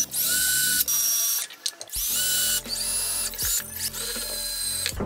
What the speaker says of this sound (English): I take the screws and just start screwing everything together